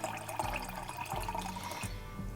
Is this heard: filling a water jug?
yes